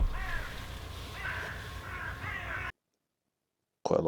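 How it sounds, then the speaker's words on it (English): A crow caws noisily in the background during outdoor air-rifle pest control, with rough repeated calls over a busy outdoor ambience, then silence and a short burst of sound at the end. "A noisy old crow in the background."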